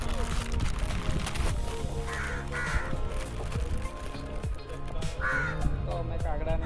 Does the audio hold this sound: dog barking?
no